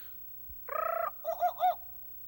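A synthetic jungle bird call: a rapid trilling burst followed by three rising, hooting whistles, clear and alone.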